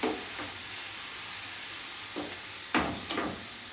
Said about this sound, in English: Let that sizzle up, burn off the alcohol.